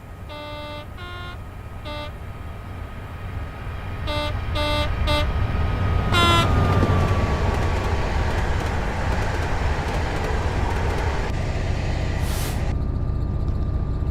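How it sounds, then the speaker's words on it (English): Trackside view of a train passing by in Train Simulator Classic: horn toots at the start, then a steady loud rumble and hiss of the train rolling past, continuous to the end, with no talking. "Zoom it by here like we're in the field now watching the train."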